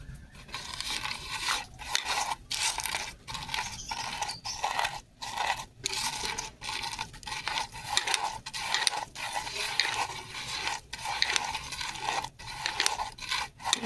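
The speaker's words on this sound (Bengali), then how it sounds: "লবণ দিয়ে আর ভেজেছিলাম বলে দেখুন কত সময় পরে লঙ্কাটা মাখছি তবু একটা মুচমুচে আওয়াজ হচ্ছে" Salt-fried chillies are mashed by hand with mustard oil, making close, crisp crunching and rubbing that comes in irregular squeezing bursts with short pauses, and no voices.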